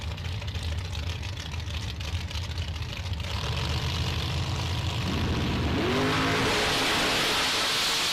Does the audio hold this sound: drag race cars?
yes